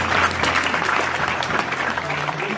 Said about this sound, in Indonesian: sekarang tepuk tangan untuk terakhir Pak Muzamil ya